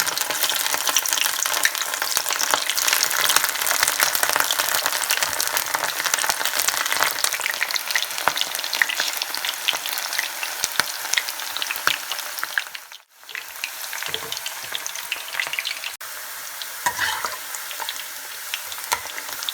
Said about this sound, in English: Oil is hot now. Fry these bitter gourds until they turn to golden brown in color.